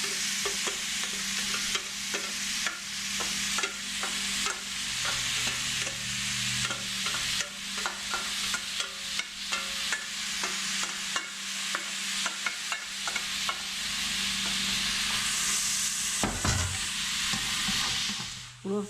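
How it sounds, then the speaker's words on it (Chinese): Shredded carrot stir-fried in hot oil for carrot dumpling filling, a steady close sizzle broken by frequent scraping and tossing strokes of the spatula, with no talking. "油热以后，下入胡萝卜丝，"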